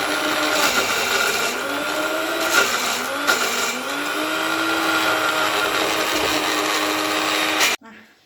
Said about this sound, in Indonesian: Sekarang kita blender sampai habis dan selesai.